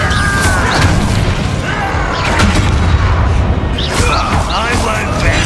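Incendio fire spell cast in the Hogwarts Legacy video game, loud booming blasts and crashing impacts repeating amid combat, with voices speaking over the action.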